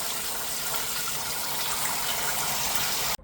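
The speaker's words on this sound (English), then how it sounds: "I'm going to fill my barrel up the rest of the way full of water." Water gushes steadily into a mash barrel as a continuous, close rushing hiss that cuts off abruptly at the end.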